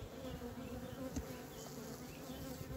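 Honeybees buzz steadily around a swarm hive during a varroa treatment, a close, continuous drone with no talking.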